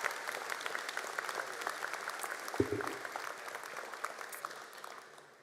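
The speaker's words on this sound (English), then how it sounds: "so let's give them a big round of applause" A crowd at a university fall convocation gives a big round of applause, sustained dense clapping from many hands that holds steady, briefly joined by a low thump midway, before slowly tapering off.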